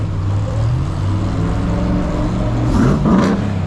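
A Ram TRX pickup truck's engine revs on a street in Los Angeles, a steady loud rumble that swells into two sharp throttle blips near the end, with no talking.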